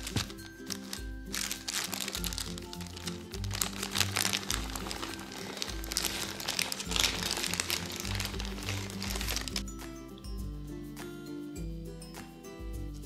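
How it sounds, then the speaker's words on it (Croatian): Baking paper crinkles and crackles as it is peeled off a cooled sponge cake, a steady close rustling that runs throughout with a few sharper crinkles and no talk. "Biskvit prvo ohladite, pa ga izvadite iz tepsije i skinite papir"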